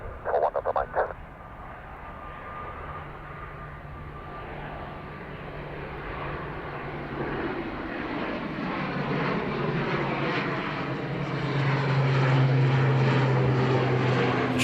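An ATR turboprop airliner at Dublin Airport, a propeller drone that swells from a distant hum into a louder, nearer roar with a rising whine as it passes, after a brief clatter at the start.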